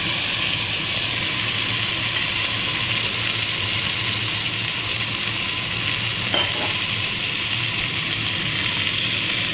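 Chicken sizzles in a hot pan with fried onions in a home kitchen, a steady loud crackling fry that holds evenly throughout with no talking.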